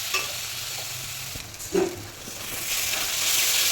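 Soybean chunks stir-fried in a cooked spice masala in a pan, a soft steady sizzle with light stirring scrapes and a brief clatter partway through, growing a little louder toward the end.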